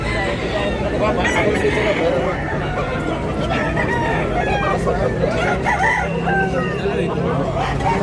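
A chicken market in Tabunok, Cebu fills with repeated rooster crows and clucking from many birds, set against constant chatter and people talking nearby.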